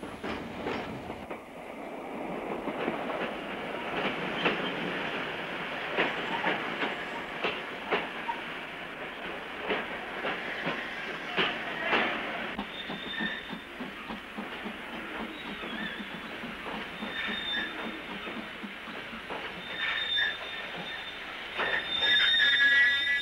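A train rumbles along a branch railway line nearby, with wheels squealing and a steady rolling clatter that continues for the whole stretch, no voices present.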